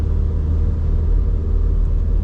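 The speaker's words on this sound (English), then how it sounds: "we're in low gear and the car's still kind of struggling a little bit to get up" A car engine in low gear labors uphill on a rural Brisbane Valley road, giving a loud, steady low rumble and drone that holds for the whole stretch with no talk.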